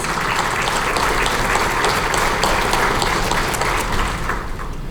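A conference audience of middle managers at a leadership event gives a round of applause, a broad, even roar of many hands clapping that holds steady and tapers slightly at the close.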